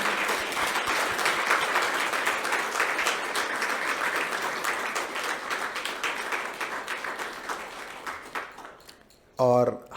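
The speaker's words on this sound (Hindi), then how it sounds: "हम खूब तालियां बजाकर अभिनंदन करते हैं आदरणीय दीदी जी।" Sustained, enthusiastic clapping from a large audience at a Brahma Kumaris New Year 2022 celebration in Panchkula, welcoming Didi ji, steady for most of the stretch before thinning out, with a short burst of sound at the very end.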